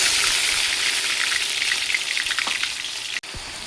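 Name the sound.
onion paste frying in hot oil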